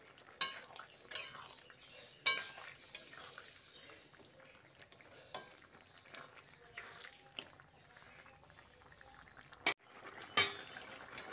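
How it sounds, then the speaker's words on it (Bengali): Utensil scraping and clinking in a pot as poppy seed paste is stirred into boiled potatoes and ridge gourd, with irregular soft knocks and scrapes over a quiet background. "পোস্তটা দিয়ে মিশিয়ে নিচ্ছি"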